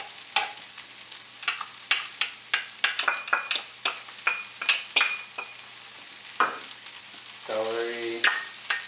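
Onions and garlic sizzle and crackle in a hot pan, a steady frying hiss broken by sharp utensil clicks and scrapes, close and moderately loud, with a brief tonal squeak near the end.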